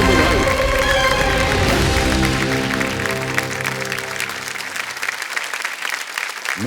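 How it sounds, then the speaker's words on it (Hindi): Studio audience on the KBC game show set applauding loudly and steadily, with a voice talking over the clapping as musical tones fade out. "ताली बजती रहनी चाहिए।"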